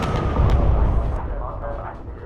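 Bombs exploding on a target in the World War II bomber game Bomber Crew: a loud, rumbling burst of low booms and crackle that rolls on for a couple of seconds and slowly fades, without voices.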